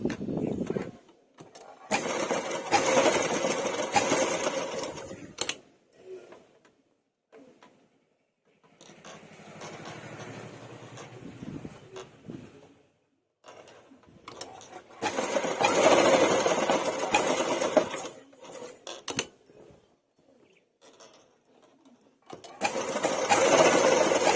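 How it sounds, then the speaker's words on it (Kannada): A sewing machine stitches torn cloth in steady, rapid bursts of whirring clatter, starting and stopping several times with quiet pauses between runs. "ಈ ಥರ ಟರ್ನ್ ಮಾಡಿಕೊಂಡು ಈ ಕಡೆಯಿಂದನೂ ಅದೇ ರೀತಿ ಸ್ಟಿಚ್ ಮಾಡ್ಕೊಳ್ಳಿ"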